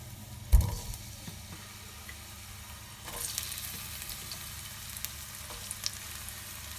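Chopped onions frying in about half a cup of hot oil for a chicken curry, a low steady sizzle after a sharp thump as they go in, rising to a brighter hiss partway through with faint stirring, no talk.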